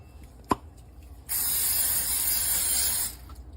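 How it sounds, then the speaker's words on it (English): Cooking spray hisses into a bowl in one steady burst of about two seconds before dough is placed in it to rise, close up, after a single light click. "So I'm going to spray my bowl here."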